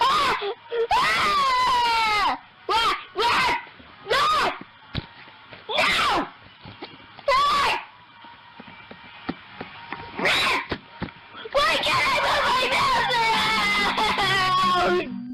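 A Screaming Blue Kid animatronic child gives loud, repeated wails and moaning cries in bursts separated by short pauses, then breaks into a longer sustained wailing stretch near the end.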